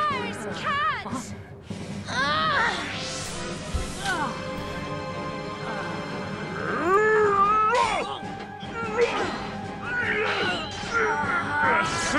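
A cartoon cat in a Fire Emblem anime OVA meows and caterwauls in several drawn-out, wavering cries, loud and close, mixed with music and other sound effects across the stretch.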